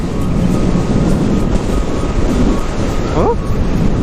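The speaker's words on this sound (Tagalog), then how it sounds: "Ang hangin eh." Strong wind beside a lake roars steadily and loudly across the microphone throughout, with a brief faint voice near the end.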